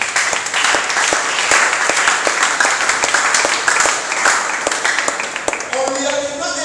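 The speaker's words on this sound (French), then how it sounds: "Acclamons pour la gloire de Jésus." A church congregation applauds during a teaching and prayer service, a dense, loud wash of clapping lasting several seconds before a voice cuts in near the end.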